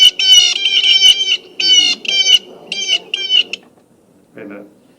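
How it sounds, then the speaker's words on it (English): A recorded blue jay calls in a burst of harsh, rapid, nasal notes, loud and close, repeated in several short groups before a pause and one fainter, lower call. "this is actually not a crow. It is a blue jay."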